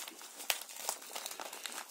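Torn plastic mailer bag from a parcel shipped from China being handled, giving close, quiet crinkling and rustling with a few sharper crackles, no talking.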